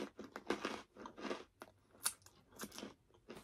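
Spicy smoked cheddar pretzels, thick and crunchy, crackle in a series of close, crisp bites and chews, short crunches coming in irregular bursts with no talking.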